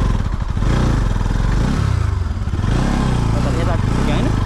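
A motorcycle runs along a village road in Nepal, its engine loud and close with a throbbing, pulsing drone and brief gear-laden shifts, while a rider's voice talks over it.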